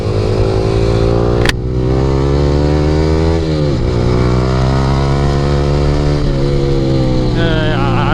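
A Yamaha R15 V3 fitted with an Akrapovic R9 exhaust rides along a rough road at Kalsubai, its loud, close engine droning steadily with rising and falling revs and a sharp crackle near the start.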